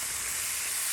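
An egg omelette sizzles in a pan, giving a brief, even and steady frying hiss close by.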